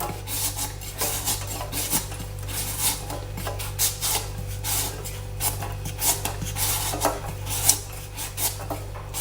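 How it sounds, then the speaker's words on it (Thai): Green papaya being shredded by hand for Thai papaya salad, a steady run of close, scratchy rasping strokes against the fruit, repeated with uneven rhythm and no talk over it. "เดี๋ยวจะขอเวลาสับมะละกอให้เสร็จนะคะ"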